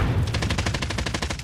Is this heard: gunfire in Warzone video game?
yes